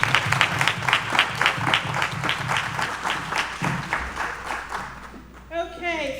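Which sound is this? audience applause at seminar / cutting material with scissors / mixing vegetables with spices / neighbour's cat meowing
audience applause at seminar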